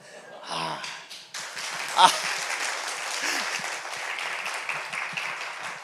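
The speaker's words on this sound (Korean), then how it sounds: "영상 보여주면서 박수 받는 건 처음입니다" Church congregation applauding at a Wednesday evening service, a burst of clapping that starts after a brief voice and continues at moderate level, with a short spoken interjection partway through.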